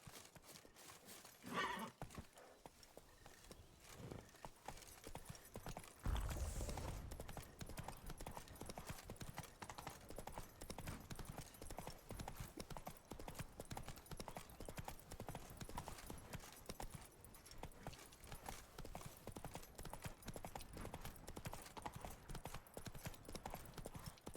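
Horse hooves clip-clop steadily in The Witcher 3, a continuous rhythmic trotting that runs at an even pace for the full length, with a brief louder burst near the start.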